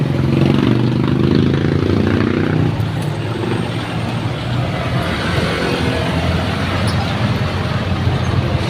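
City road traffic rolls past near City Hall, a broad steady rumble of engines and tyres with a heavier vehicle's drone early on, heard up close from the roadside without speech.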